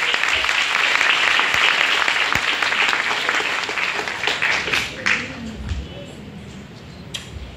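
Strong applause from an audience at a school ceremony honoring student authors, loud and dense at first, then thinning into scattered claps with a few voices and thumps as it fades.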